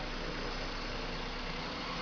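A car engine runs with one injector connector unplugged, so only some cylinders fire. It is a steady, close, low idling rumble with no voices.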